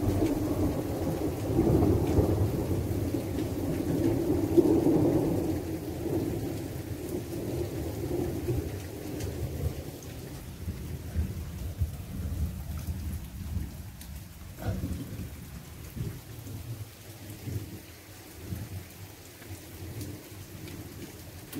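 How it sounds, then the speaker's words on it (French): Heavy rain pours steadily outside a small cave shelter during a night thunderstorm on a pilgrimage trail, with low rolling thunder early on that fades into a continuous hiss of rainfall. "Il y a un gros orage dehors, t'entends pas?"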